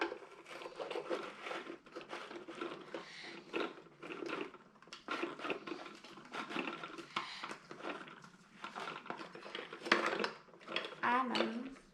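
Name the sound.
putting lid on bath bomb kit container and turning it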